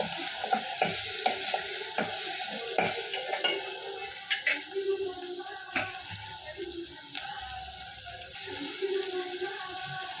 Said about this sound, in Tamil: நல்லா தக்காளி வேகட்டும்.